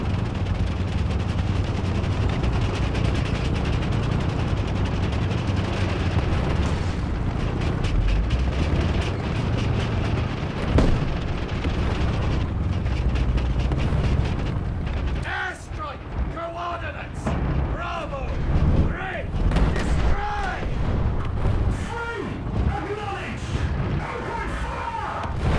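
Explosions destroying a tank in War Thunder Mobile, with loud booming blasts and rumbling over the first fifteen seconds, then choppier bursts mixed with a voice talking over the game sound.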